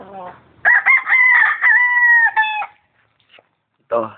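A Hatch Claret gamefowl rooster crows once at close range, a loud, long, wavering call lasting about two seconds. Brief low clucks come before it and again at the end.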